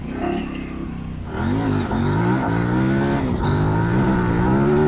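A Kove 800X Rally motorcycle engine revs up hard at full throttle and climbs in pitch as it accelerates, close and continuous, with a shifting roar.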